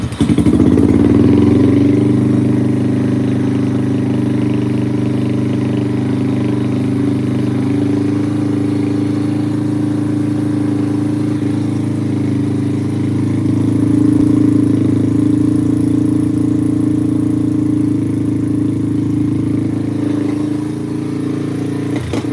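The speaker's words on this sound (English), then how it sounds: "get it idling and then spray some starter fluid around the boot." A 2005-2009 Yamaha TTR-230 dirt bike engine that only runs with the choke on idles steadily and loudly up close, a continuous low rumble with slight swells in pitch and no talking.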